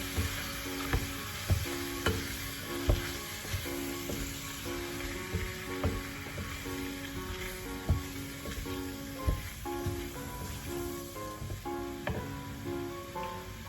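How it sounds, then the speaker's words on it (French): Flour is cooked into a beef stew with a spoon, giving a low, quiet sizzle under a run of regular soft stirring knocks and scrapes against the pot, with no voices. "On mélange bien pour faire cuire la farine."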